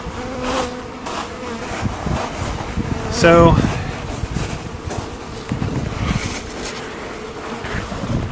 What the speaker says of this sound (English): See if they can hear all these bees